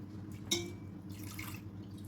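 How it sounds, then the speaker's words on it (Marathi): Water drips from grated potato draining in a kitchen sieve: one distinct close drop stands out, followed by fainter scattered trickles against quiet room noise. "पूर्ण पाणी निथरू द्यायचं बटाट्या खीसचं"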